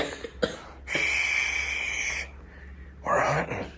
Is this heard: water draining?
no